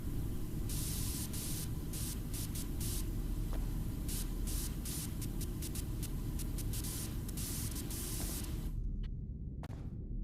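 Pressure washer spraying in PowerWash Simulator, a continuous loud hiss broken by brief stops and restarts, then cutting off near the end with a couple of short final bursts.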